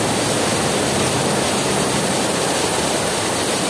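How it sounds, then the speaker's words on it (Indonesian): Swift water rushes along Kali Jagir, a river roughly 20 to 30 metres wide in the middle of a city, as a loud, steady, unbroken roar with no voices. "ada sebuah sungai yang lebarnya kurang lebih dari 30 meter ataupun 20 meter, yang deras airnya segini"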